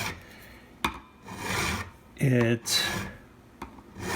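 A metal file rasps across the frets of a 2018 Fender Stratocaster in a few uneven strokes, close and scratchy, between short pauses, with a brief bit of talk partway through.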